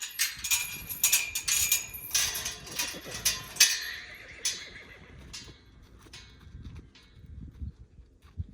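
A yearling colt from the Nevada Wild Horse Range whinnies in a series of loud, shrill neighs, then quieter snorts and shuffling hooves as the calls fade, with faint voices in the background.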